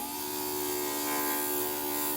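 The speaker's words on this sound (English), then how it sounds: "So if I just tap it lightly, it'll grind without grinding too much." A pedal-controlled electric grinder works on a small mosaic pendant, a steady high-pitched whine with a constant buzzing hum, close and continuous without talk.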